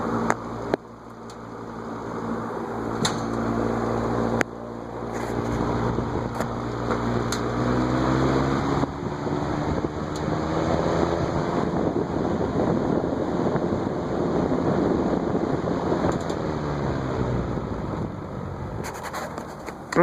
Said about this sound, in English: it's still making that rattling now sound, so that wasn't the solid state control, but it goes away when it gets up to speed